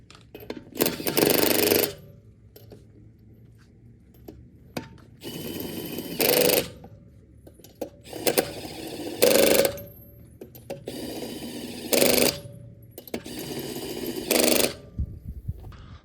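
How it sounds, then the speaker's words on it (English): Bursts of a ratcheting power tool spinning lug nuts onto the bolts of a dual-axle trailer wheel, five short loud runs separated by pauses with faint clinks and handling noise between them. "we will use them to just screw them on"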